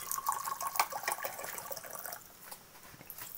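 Liqueur poured into glasses, heard as a faint, close trickle of liquid with a few soft splashes and drips, alone without voices.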